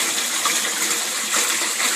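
Aquaponics pond water pumped up and returned through holes in a pipe, a close, steady splashing and trickling of many small streams falling into the fish pond, continuous and fairly loud.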